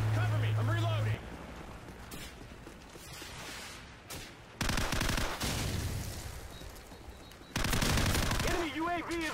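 Rapid MP5 submachine-gun bursts from Call of Duty 4 gameplay, loud sustained automatic fire in several long strings with brief pauses, mixed with game voice chatter and effects.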